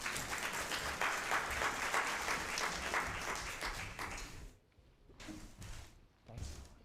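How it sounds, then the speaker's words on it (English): An audience at an online dispute resolution conference applauds the speakers, a steady burst of clapping that fades out midway, followed by a few scattered knocks and thuds. "So please give them a warm round of applause"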